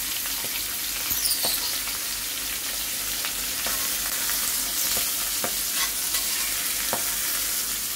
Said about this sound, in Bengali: মটরশুঁটিগুলো বেশি ভাজা যাবে না,